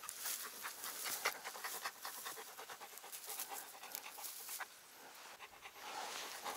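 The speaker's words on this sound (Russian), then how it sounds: "Собака моя, да." A dog pants quickly and steadily up close, soft breathy huffs repeating in a fast rhythm with no talking.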